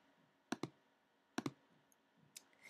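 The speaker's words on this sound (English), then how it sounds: "I'll double click on index." A computer mouse is double-clicked twice, each a pair of sharp close clicks in quick succession, followed by a fainter single click in a quiet room.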